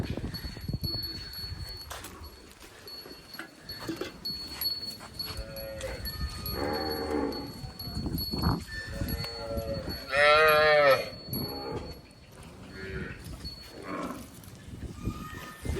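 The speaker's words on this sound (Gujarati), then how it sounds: "અહીંયા છે જે ગૌશાળાની ગાયો છે એની દોવાઈ ચાલુ હતી" Cows in a cowshed during milking give a couple of long, drawn-out moos against a busy farmyard backdrop of shuffling, clanks and a steady high whine, moderately loud and close.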